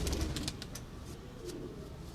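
Jaunsre pigeons on a Rawalpindi rooftop give soft, low cooing over a constant wash of outdoor noise, with a few short clicks above.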